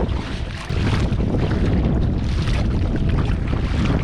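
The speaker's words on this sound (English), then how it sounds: "Right now I'm paddling against this current" A small boat is paddled on a lake against the current, with a steady wash of water and strong wind buffeting the microphone close by.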